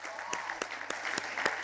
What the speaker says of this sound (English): Shall we give them another round of applause,